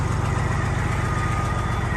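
Semi truck engine with an exhaust needing repair idles loudly up close, a steady low rhythmic diesel throb with rattling vibration and no talk over it.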